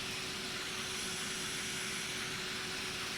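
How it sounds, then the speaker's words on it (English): Steady aircraft cabin hum from an Airbus A319 in the X-Plane 11 flight simulator during pushback, a constant broadband drone with a faint steady tone, no voices. "Here comes the pushback."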